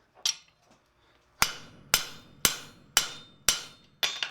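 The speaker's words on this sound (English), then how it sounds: "I set this rivet cold first" Hammer blows setting a cold rivet on blacksmith wolf jaw tongs ring out sharply, one early strike then five evenly spaced hits about half a second apart, each with a bright metallic decay, close and alone.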